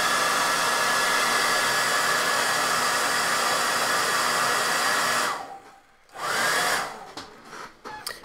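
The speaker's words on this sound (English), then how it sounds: "let's hit this with a hairdryer" A hair dryer blasts steadily at close range while drying paint on a miniature, a loud continuous whoosh that cuts out abruptly, returns briefly, then sputters off in short bursts.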